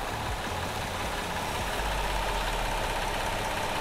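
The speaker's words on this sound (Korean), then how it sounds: "엔진 소리 일정하네요." A Kia Carnival gasoline nine-seat Hi-Limousine engine idles steadily under an open hood, a constant dense mechanical hum with no breaks and no talk.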